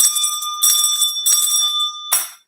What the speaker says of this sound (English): I'm going to ring my bell 3 times.